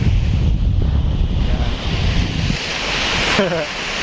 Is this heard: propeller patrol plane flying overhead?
no